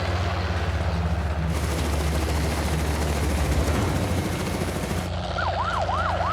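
A helicopter's loud rotor roar fills the scene at the mouth of a giraffe boma, a dense steady thrum close by, with a wailing siren joining near the end.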